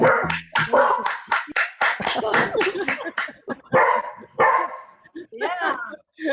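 A dog barks repeatedly in short, loud bursts, with yips and whimpers, during an online graduation celebration held over Zoom, heard near and mostly alone with a little talk near the end.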